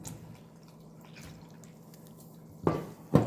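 Water is added to pitha dough to mix a batter. After a quiet stretch, two short, wet splashing gurgles come close together near the end.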